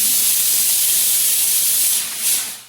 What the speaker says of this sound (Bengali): 4 নম্বর সিটি পড়লো